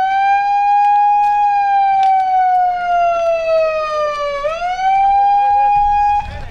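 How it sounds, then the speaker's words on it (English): A siren wails steadily, close and loud, its pitch sliding slowly down then sweeping back up before cutting off, sounded at a nuclear disarmament gathering, with faint crowd noise beneath. "I will sound the siren."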